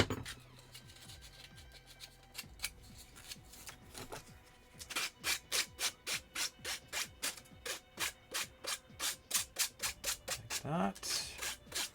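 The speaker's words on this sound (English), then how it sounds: "aside from a little bit of sanding here and there," Sanding around the edges of a small handmade craft piece, starting with irregular rubbing and handling noises, then a long run of quick, even, rhythmic scratchy strokes close to the microphone with no one talking.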